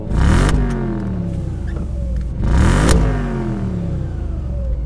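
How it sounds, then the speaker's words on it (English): An Audi S4 engine revs hard twice, each blip rising to a loud roar and falling back to a steady idle, heard up close outdoors with no one talking. "Give him a rev, bro."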